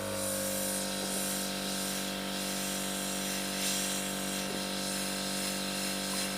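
Steady airbrush hiss from a compressor-fed spray of paint onto a space marine miniature, with a constant motor hum beneath, continuous and fairly loud throughout.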